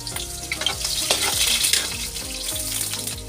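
Onions fry in a hot pan, with a steady close sizzle broken by the scrape and clatter of stirring against the pan over a few seconds, and no one speaking.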